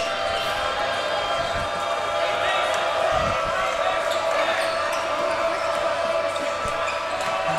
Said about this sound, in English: So we'll see the Cougars dribble it up.